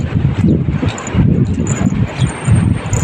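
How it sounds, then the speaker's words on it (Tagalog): Loud, gusty wind buffets the microphone in uneven rumbling bursts, with faint rustling underneath. "Mahangin po ngayon."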